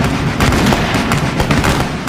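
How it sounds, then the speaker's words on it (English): A musket volley rings out as a loud, dense, ragged crackle of many gunshots overlapping in a rapid burst, close and continuous for about two seconds. "Rapid volley required tight coordination in the heat of battle if muskets were to"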